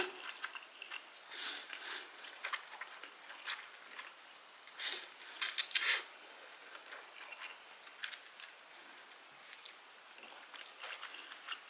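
Someone eats No Brand perilla oil buckwheat noodles, with soft intermittent chewing and slurping sounds close up in a quiet room.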